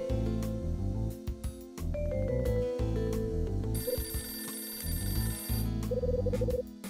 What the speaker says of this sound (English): That appears to be the phone.